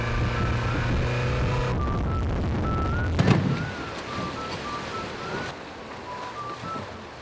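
Ocean waves wash around a small rocky island at sea, a steady loud rush of surf and wind noise that eases after a sharp splash midway, with faint whistling tones above.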